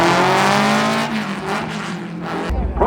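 Volkswagen cars, including a Beetle, roll up at a VW drag race at Las Vegas Motor Speedway: a loud, steady engine drone that shifts abruptly near the end, with a faint voice in the background.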